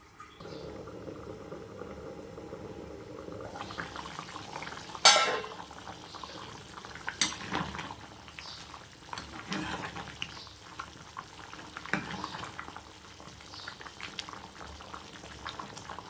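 Eggplant and dried fish curry simmering in a covered pot, a soft steady bubbling with a few sharp clinks of a lid or spoon, heard close with no one talking.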